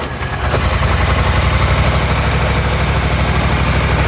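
A 2009 Polaris 850 XP with a throttle fault idles in park, its engine holding a steady, loud, low rumble with an even pulsing beat.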